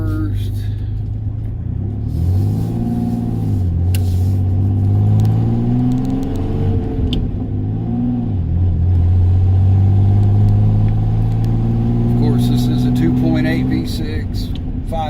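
V6 car with a 5-speed manual revving up in first gear, a loud close engine note rising and falling in pitch with two climbs, heard from inside with a voice now and then.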